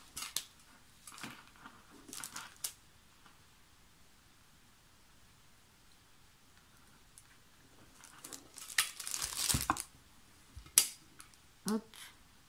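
Scraping and peeling of glue off a handmade hanging bell, mostly quiet with a few scratchy bursts early on and a denser cluster of rasping, clicking handling noises near the end.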